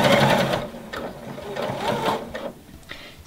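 A sewing machine stitches a lingerie seam on panties, a close, steady mechanical whir and rapid needle chatter that runs nearly continuously, easing briefly near the end, with no talk.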